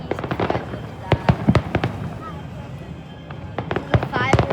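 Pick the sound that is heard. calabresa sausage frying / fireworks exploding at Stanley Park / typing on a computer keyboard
fireworks exploding at Stanley Park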